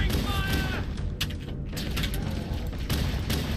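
Gunshots ring out in Halo: Combat Evolved, loud and close, amid a dense wash of in-game combat noise with sharp reports in quick succession.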